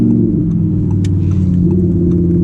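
A 2018 Audi R8 RWS V10 drives with its engine as a steady, deep, continuous rumble, loud and close, with no talk over it.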